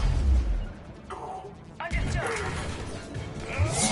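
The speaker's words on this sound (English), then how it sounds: "Ooh, that was a biotic explosion." Biotic explosion in Mass Effect 3: a loud game blast and crash at the start, then mechanical clatter and layered combat noise with a second burst near the end.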